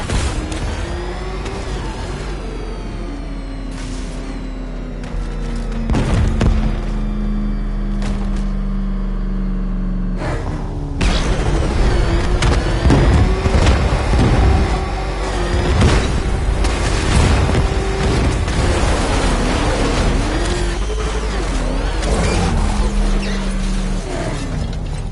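A chemical factory blowing apart in the video game Batman: Arkham Knight, with repeated heavy booms, crashing debris and rumbling collapse that stay loud and dense throughout, cut by sharp blasts at several points.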